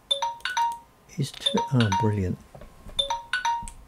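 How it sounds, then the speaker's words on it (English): Electronic alarm clock beeping in short bright repeated bursts indoors, with someone talking in the middle of the ringing. "that's my alarm clock to tell me the washing machine needs fixing"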